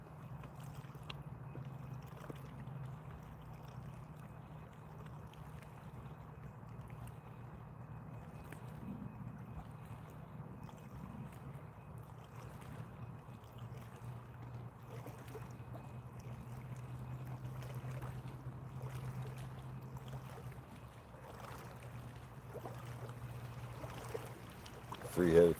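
Boat passing on the water below a dam while fishing, a steady low engine drone that holds for about twenty seconds and then fades, with faint water and wind noise around it.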